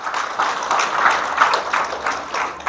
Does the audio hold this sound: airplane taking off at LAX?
no